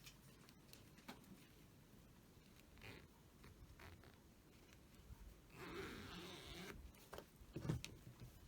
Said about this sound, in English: slowly zip our zipper up.